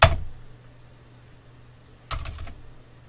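Keys pressed on a Commodore 64 keyboard, one sharp click at the start, then after a pause a quick cluster of three or four close clacks in a quiet room.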